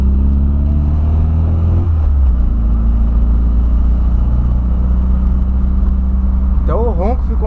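A turbocharged Volkswagen Voyage engine roars steadily on a track with a deep, heavy rumble throughout, a rising whine near the end, loud and close.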